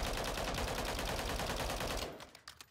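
Rapid automatic gunfire in the Modern Warfare 3 video game, a loud continuous burst of shots that cuts off near the end, leaving brief fading echoes, with no talking.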